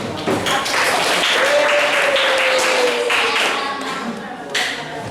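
A classroom of students claps after a group presentation, a lively burst of many hands at close range with a voice sounding briefly over it and a final few claps near the end.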